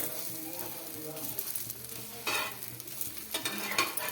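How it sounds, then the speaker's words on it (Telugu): A jowar flour dosa sizzles in a little oil on a hot pan, a steady close frying hiss broken by scraping turns of a spatula that flare louder twice in the second half. "మనం ఇట్లా తిప్పేసుకుంటూ కాల్చుకోవాలండి రెండు వైపులా బాగా."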